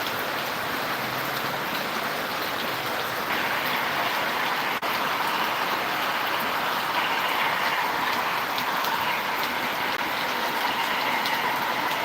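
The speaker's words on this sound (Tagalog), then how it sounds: "Ang lakas po ng ulan dito." Heavy rain pours down steadily and loudly for the whole stretch, a dense unbroken hiss of drops drumming on surfaces with no voices over it.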